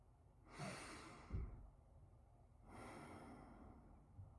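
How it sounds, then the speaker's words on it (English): Slow breaths in and out through the nose, two long soft airy drafts with a quiet pause between, close and faint. "take slower, shorter breaths in and out through your nose"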